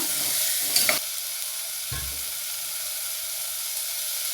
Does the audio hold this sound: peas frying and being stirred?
yes